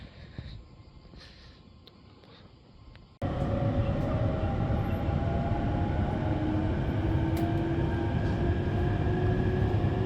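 A train on the Joban Line near Fukushima rumbles steadily along the rails, a dense continuous roar with faint squeals, starting after a quieter interior stretch.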